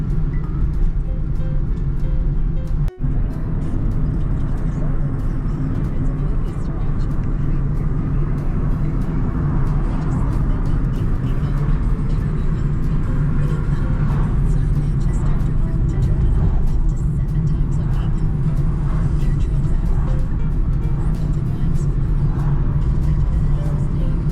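A car drives along a quiet country road in the rural UK, its steady engine and tyre rumble filling the cabin evenly from start to finish with no pauses.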